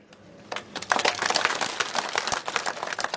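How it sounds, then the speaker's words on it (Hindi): Sparse clapping from a handful of people at an outdoor political rally in Bharmour, starting after a brief pause and continuing as scattered, uneven claps. "4 आदमी ने बजाई तालियां।"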